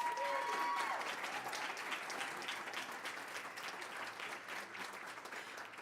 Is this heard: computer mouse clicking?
no